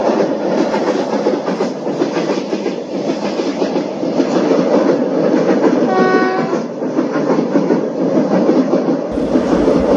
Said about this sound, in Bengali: পরবর্তী স্টেশন পণ্ডিত দীনদয়াল উপাধ্যায় জংশনে কিছুক্ষণের মধ্যে মহামান্না এক্সপ্রেস প্রবেশ করবে